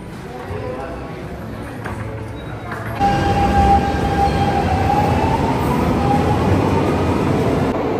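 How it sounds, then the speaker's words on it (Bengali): A Lisbon metro train rumbles loud and close, with a steady roar that swells after a few seconds and a thin high whine running over it. "মেট্রো।"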